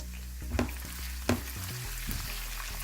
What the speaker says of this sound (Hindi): इसमें हम ये लहसुन अदरक जो हमने कूटा है ये डाल देंगे पूरा